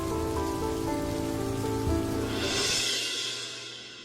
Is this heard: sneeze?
no